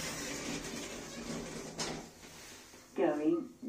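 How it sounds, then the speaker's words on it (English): Lift doors in a block of flats slide shut with a brief mechanical rumble and a soft thud, followed by an automated voice announcement. "Doors closing."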